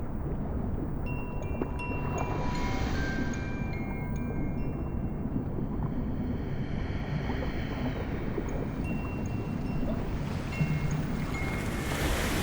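Gentle ocean waves wash steadily in warm salt water, a continuous soft surf with light wind, used as an audio-drama backdrop for a calm seaside scene, with no voices.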